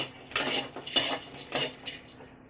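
Fox nuts (makhana) dropping into a pan to fry for laddu, with three or four quick rattling clatters against the metal that quiet down toward the end.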